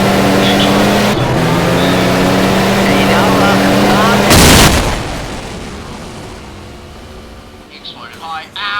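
A car blows up in a video game with a sudden loud burst of noise, preceded by a steady engine drone with a harmonic hum; speech follows the blast.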